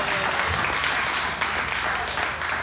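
Crowd applause at a comedy show, loud continuous clapping from an audience close by, with a few scattered sharper claps.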